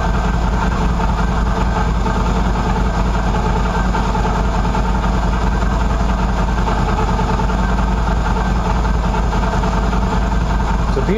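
A Qlink QBK 250 Adventure motorcycle engine idles steadily and loudly up close after sitting unused, with a constant whine that may come from a worn clutch or stator, and no voices.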